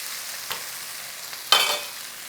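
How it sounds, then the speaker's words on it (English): Onions frying in an Instant Pot: a soft, steady sizzle broken by two brief stirring scrapes, close and alone. "dump that in the Instant Pot and chuck your onions in here."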